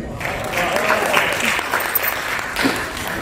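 Audience applause for a poet at a Teachers' Day celebration, a full burst of clapping that stays fairly even throughout, with crowd murmur mixed in.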